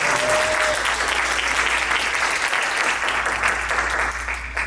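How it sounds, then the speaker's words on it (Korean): A church congregation applauds during a Sunday dedication service at a Korean Presbyterian church, a loud, dense, sustained round of clapping that fills the room and fades slightly at the end. "목사님 박수."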